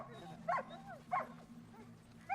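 A few faint, distant dog barks and yips spaced apart over a low steady background hum, quiet and far off.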